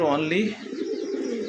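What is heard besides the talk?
male Satin pigeon cooing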